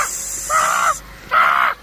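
Two loud, close crow caws come one after the other, each harsh and about half a second long, separated by a short pause.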